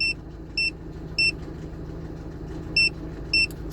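A Mazda CX-7 2.3 turbo petrol engine with 170,000 km idles steadily after about ten minutes of warming up, a low continuous hum broken by five short, regular electronic beeps.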